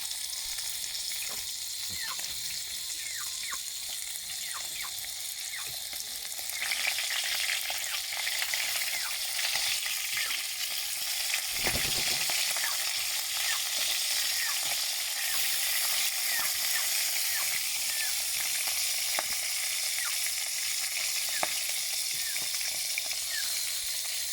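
Fish frying in a pan gives a steady, dense sizzle with crackling pops throughout, growing slightly louder partway through, with no talking.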